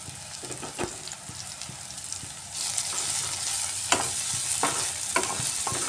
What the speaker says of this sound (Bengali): আদা পেঁয়াজ রসুন আবার আমি ভালো করে ফ্রাই করে নিচ্ছি।